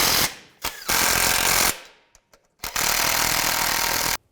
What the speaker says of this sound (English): Then these two nuts go right here for the bracket. Get those started. And tighten the nuts down.